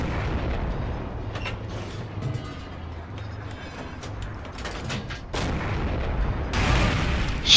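Tank cannons fire in the game Forgotten Hope 2, with heavy booms and a broad rumble of battle noise that swells into louder blasts near the end.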